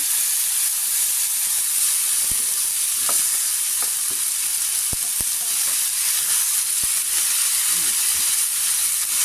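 Mixed vegetables hit a hot pan for ginataang gulay and are stirred, giving a loud, constant sizzling hiss broken by scattered scraping knocks of the spoon, with no talking.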